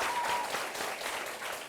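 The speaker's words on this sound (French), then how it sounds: "on applaudit très, très fort." A crowd at a high school student awards event in Chad claps loudly in a steady, uninterrupted burst that stays even throughout.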